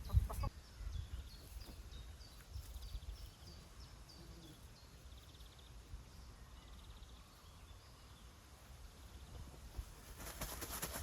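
Chickens cluck and call softly from the background of a yard while a few kept as pets move about, with faint bird sounds and a brief bump at the start; no one speaks.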